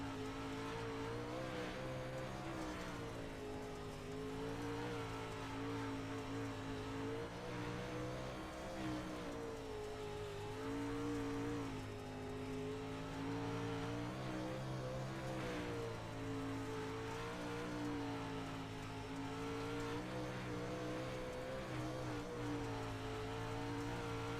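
Race car engine holding a steady high-revving drone as it laps the track at near-full throttle in a Thursday night racing event, continuous and loud with shifting pitch and no talk.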